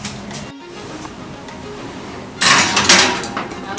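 A tray of buffalo cauliflower going into a kitchen oven: a metallic clatter of the pan sliding onto the rack, followed by a louder rushing burst and rattle near the end, close and brief with no talk.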